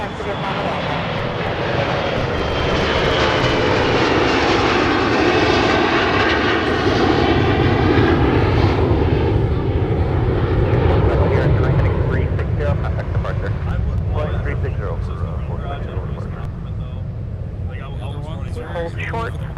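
Airplane taking off from a runway at MSP airport, a loud roaring engine that builds and holds, then slowly fades into the distance, with a voice talking over it.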